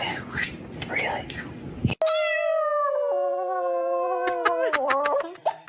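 A pup lets out a long, wavering, high-pitched howl that glides through several pitches and breaks up near the end, after a stretch of whispered talk.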